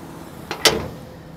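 The hood of a 1961 Pontiac Tempest drops shut with a soft click followed by a single close, sharp latch thunk, then quiet.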